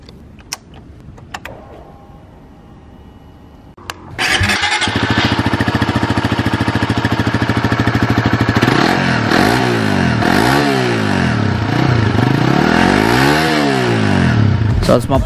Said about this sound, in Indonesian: sudah keyless bro, pakai remote lagi buat nyalain motornya